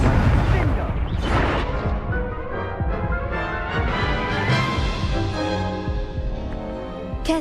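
Hogwarts Legacy spellcasting with the Confringo blast spell, a dense clatter of booming impacts and bursts layered over game music and a voice shouting incantations throughout.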